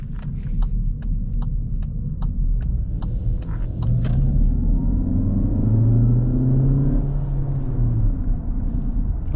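A 2025 Cupra Terramar VZ (1.5 e-Hybrid, 272 hp, DSG) drones steadily from inside while driving, with a low rumble that swells as it revs up midway, plus a few faint ticking clicks early on.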